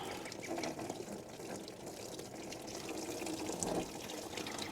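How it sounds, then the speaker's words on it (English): Coolant draining out of an unscrewed coolant bottle on a 2001 Ford Super Duty, a continuous gushing, trickling pour of liquid heard close up and steady throughout, with no talking. "Well, coolant comes out."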